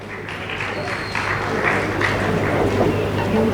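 An audience applauds students receiving awards at a felicitation ceremony. Dense clapping swells after the first second and continues under a voice speaking over it.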